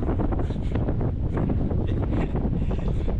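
Strong gale wind buffets the microphone in steady, roaring gusts on a moored boat, loud and close, with no voices.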